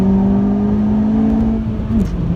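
A Honda Civic Type R engine at full throttle on the Cadwell Park circuit, a loud, sustained droning note that holds steady and then drops pitch near the end as the car crosses the start-finish line.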